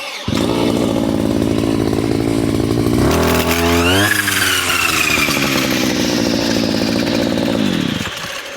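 A Vitals Professional BK 4123AVs petrol brush cutter starts with its electric starter and runs loud and close, a steady buzzing idle that climbs into a sharp revving whine midway and holds before cutting off.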